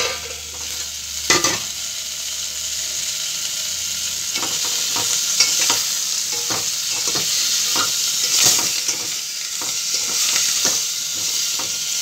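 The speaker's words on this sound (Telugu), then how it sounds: "నేను ఇంగువ కోసమైనా కంపల్సరీగా తాలింపు వేస్తాను" Spices and asafoetida are tempered in hot oil for a drumstick dal rasam, producing a continuous bright sizzle with repeated spoon scrapes and taps in a steady rhythm, close and fairly loud.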